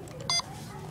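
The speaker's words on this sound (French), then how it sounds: "on appuie sur le bouton orange, et ça va faire un petit bip" A short electronic beep from a Lego Mindstorms safe after its orange button is pressed, a single brief tone heard under background room noise.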